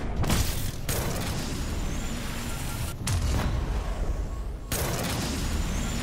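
Rockets explode in Call of Duty Zombies, a heavy continuous rumble broken by three sharp booming blasts spaced a couple of seconds apart.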